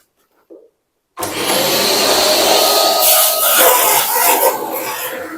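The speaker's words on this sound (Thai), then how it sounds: "แล้วก็เราก็จะใช้เครื่องดูดฝุ่น ดูด นะครับพวกเศษปูตรงนี้ออกนะครับ" A vacuum cleaner switches on abruptly and runs at a loud, steady roar, sucking mortar debris from around a floor drain while the drain grate is being replaced; one brief faint sound comes before it starts.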